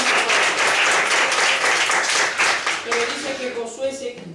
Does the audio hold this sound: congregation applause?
yes